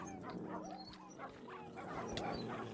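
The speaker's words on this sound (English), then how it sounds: "Oh no, the pups are getting out of control." Wolf pups in the Hypixel Skyblock video game yip and whimper, several short, high, overlapping barks scattered across the moment, fairly soft and slightly distant over a busy game background.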